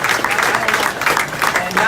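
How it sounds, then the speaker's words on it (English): Audience at a Moose Lodge golf event gives a round of applause, a dense steady clapping wash filling the moment at close range with no voices over it. "I think we should all give Bill a round of applause"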